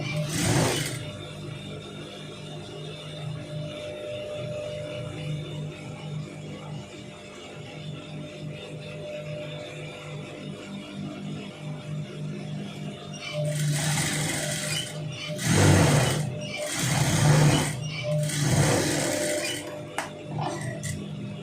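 A sewing machine runs in several bursts while stitching a long sleeve, its steady mechanical whir broken by short pauses and faint clinks, close and fairly loud.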